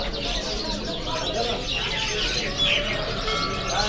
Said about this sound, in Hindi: मुख्तलिफ किस्म के यहाँ पर ग्रीन और येलो अलग अलग रंगों के तोते देख सकते हैं।